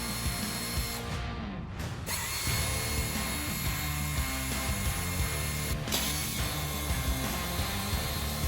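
Air ratchet spinning bolts off a Ford Model A during body removal from the frame, a steady loud whirring rattle with brief pauses, close up and alone.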